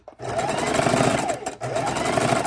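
A longarm quilting sewing machine stitches fabric corner to corner in a fast, buzzing, steady run, pausing briefly midway before resuming, close and loud.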